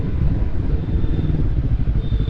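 A motorcycle engine rumbles steadily on a city ride, recorded from the rider's position by a rear-facing microphone, a loud, continuous low drone with slight pulsing and no talk over it.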